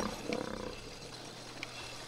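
A lion roars in the video game It Takes Two: one short, faint growling roar that fades quickly into quiet background.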